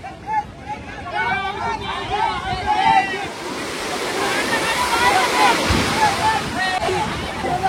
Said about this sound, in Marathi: अरे बापरे लाट आली बघ जोरात।